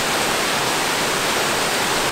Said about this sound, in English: home to the 729-foot Amicalola Falls, which is the third highest cascading waterfall east of the Mississippi River